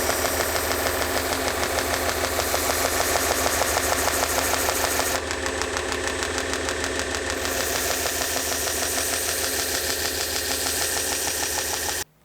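A 2x72 belt grinder hums loudly and steadily as a knife edge is polished on its contact wheel, a continuous whirring drone with a brief shift in tone midway, then cutting off abruptly at the end.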